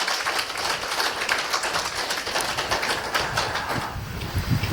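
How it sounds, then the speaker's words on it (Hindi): Audience clapping hands together during a yoga talk, a dense, steady patter of applause from a group lasting throughout, fairly loud and close. "अब ताली बजा लें थोड़ा सा सभी।"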